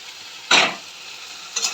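Puthi fish drop into hot spice masala in a pan, giving a sharp burst of sizzle that fades quickly, then a second, shorter hiss near the end over a faint background.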